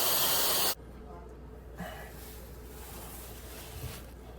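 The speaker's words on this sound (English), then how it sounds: "now I'm gonna blow dry my hair with the hooded dryer" A hooded hair dryer set to medium heat, around 140 degrees, blows with a steady airy whoosh that starts loud and broad. It then drops to a softer, constant hum.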